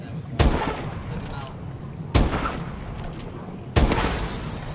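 Three sharp gunshot bursts go off roughly every one and a half to two seconds in Call of Duty Advanced Warfare, each one loud and punchy with a decaying tail, over faint background game noise.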